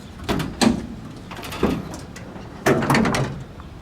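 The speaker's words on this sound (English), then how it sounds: "Let's open the hood, shall we, since we've got it in the sun here." The hood of a 1955 Imperial Newport hardtop is worked open outdoors with a series of close metallic clunks and creaks, several separate thuds and latch rattles spaced about a second apart.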